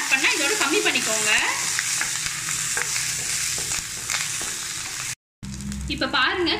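Curry leaves and chana dal frying in hot oil in a pan, a loud, continuous sizzle with stirring and scraping up close, briefly cut to silence before the frying returns.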